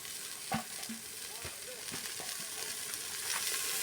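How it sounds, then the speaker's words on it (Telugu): Small homegrown tomatoes are stirred into mutton curry frying in a pot, giving a steady sizzle with a few scraping and clunking strokes of a ladle, close by. "ఇవి చిన్న చిన్న టమాటలు టమాటాలు కలుపుతున్నారు"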